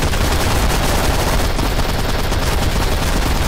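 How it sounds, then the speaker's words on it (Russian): Powerful rapid gunfire from the Garry's Mod video game, a dense, loud, continuous barrage of shots with no pauses. "Вот это выстрелы мощные, мне нравится."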